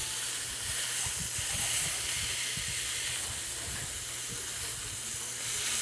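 Pork tenderloin sears in a hot pan with a steady, loud, close sizzle and hiss that carries through the whole stretch, with no one talking over it.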